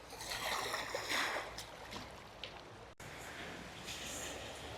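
Gentle waves lapping against rocks at a clear-water shoreline, a soft continuous wash and trickle with a brief break partway through, no voices over it.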